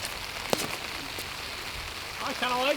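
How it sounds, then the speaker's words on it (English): Steady rain falls on an outdoor disc golf course, a continuous broadband patter with a sharp tap near the start, and voices chime in faintly toward the end. "This rain needs to go on somewhere."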